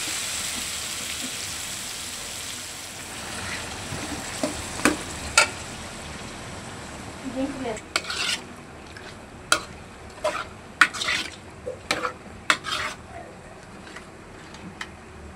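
Chicken fries in a pan with a continuous close sizzle, and a spatula scrapes and clacks against the pan in quick, irregular strokes that grow busier toward the end.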